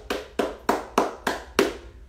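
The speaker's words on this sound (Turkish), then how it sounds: "Ve kendimizi alkışlıyoruz." Hands clapping at the end of a home exercise session: six crisp, evenly spaced claps, close and loud, with nothing else heard.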